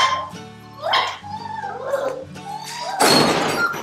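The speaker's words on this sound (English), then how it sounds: "So we've got this litter of puppies." A litter of Scotch Collie puppies barking and yipping close by in short overlapping bursts, ending in a louder scuffle.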